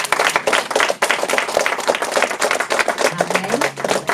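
A church congregation claps together in loud, steady, fast rhythm during a Sunday service, the dense clapping filling the space throughout.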